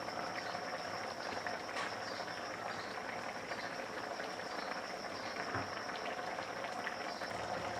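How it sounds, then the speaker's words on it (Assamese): Fish curry cooked with tenga simmers under a lid on a gas stove, a quiet continuous bubbling and hiss with soft pops, fairly faint and steady throughout. "এতিয়া মই 2 মিনিটমানৰ কাৰণে ঢাকোনখন উতলিব দিছোঁ।"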